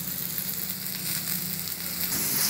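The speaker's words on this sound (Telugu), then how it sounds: "ఇప్పుడు వంకాయ పచ్చడి కోసము ఇవి వేగినాయండి." Eggplant frying in a pan for a Telugu-style vankaya chutney gives a steady, close hiss of sizzling oil that swells slightly near the end, with no talk.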